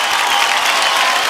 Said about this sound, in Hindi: जोरदार तालियां हो जाए फॉर 21st ITA अवार्ड।